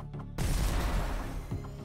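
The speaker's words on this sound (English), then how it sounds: "And explosions. Who doesn't like explosions?" Explosions and gunfire in the top-down shooter video game Neon Chrome burst in after a brief quiet moment, forming a dense, continuous barrage of booming blasts with a heavy low-end rumble and no talking.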